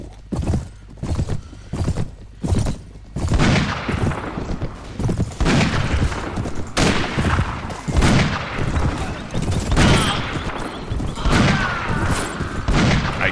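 Rifle gunfire in the video game Mount & Blade Warband, an 1860 Old America mod battle: scattered sharp shots and volleys crackle amid the clatter of horses and the din of fighting.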